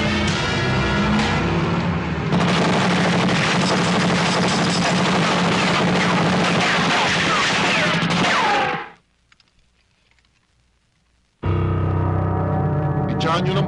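Dense, loud gunfire rattles continuously, cuts to near silence for a few seconds, then the heavy shooting resumes.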